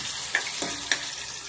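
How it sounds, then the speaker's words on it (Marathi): Fish fries in a pan, giving a steady hiss of sizzling oil broken by three brief crackles, close and fairly loud, with no voices. "ही फ्राय मच्छी आपली इकडं।"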